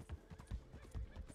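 Horse hooves clip-clopping in the video game Red Dead, a quiet irregular run of low thudding steps, several beats in quick succession.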